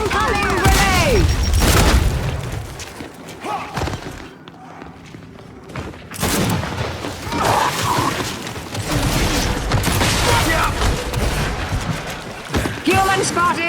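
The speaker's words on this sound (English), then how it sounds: "Incoming grenade!" Video game combat with a grenade explosion and bursts of gunfire, loud booms and rapid shots, a brief lull, then more firing, with a game voice calling out over the action.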